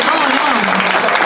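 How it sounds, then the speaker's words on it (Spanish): Audience at a tango festival applauding a dance couple, a dense, steady wash of clapping filling the short stretch, with a voice audible over it. "Vamos a dar un aplauso de nuevo."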